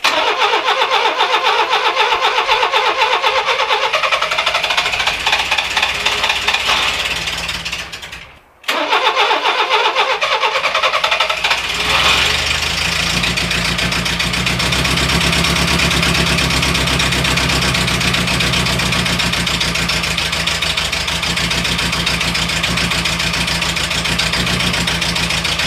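A Renault Trafic van fitted with a new homemade exhaust runs loudly, cuts out briefly, then cranks and restarts into a steady rough idle that holds close and constant, with no one speaking.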